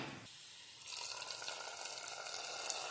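A sudden burst of loud sizzling as hot tempering hits gongura dal, settling into a continuous hiss and crackle, near and alone.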